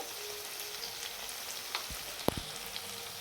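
Ground spices, coriander powder and Kashmiri chili powder, frying and being stirred in a pan for a Bengali doi potol curry. A faint, steady sizzle with a few soft clicks and taps, heard alone.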